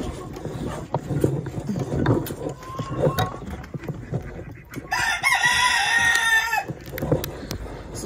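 A backyard coop rooster with a cold crows once, a hoarse, strained call rising over a couple of seconds, with rustling and clucking farm noise around it.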